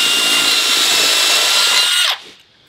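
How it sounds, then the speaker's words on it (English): Power drill boring through a block of timber for a boat hull stand, a loud, steady close whine and grind for about two seconds before cutting off abruptly. "I'm going to drill through a block of timber like this, attach it"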